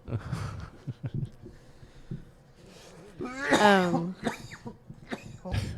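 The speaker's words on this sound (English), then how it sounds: "Just make sure you cough right into the microphone." A sharp, close cough bursts out amid scattered breaths and soft vocal noises, loud and right up against the microphone.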